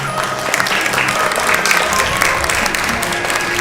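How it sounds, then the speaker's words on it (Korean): Audience at a ceremony naming an honorary hanbok ambassador breaks into warm, steady applause, a dense crowd of clapping hands filling the room at close range without pause. "역시 따뜻한 박수 부탁드리겠습니다."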